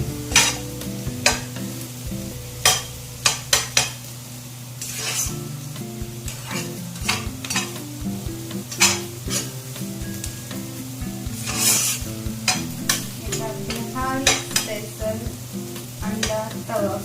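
Mushrooms fry on a hot tawa with a continuous close sizzle, while a spatula repeatedly scrapes and taps the pan in an uneven rhythm.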